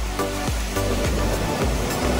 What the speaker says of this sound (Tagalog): Malakas na yung agos ng tubig dito.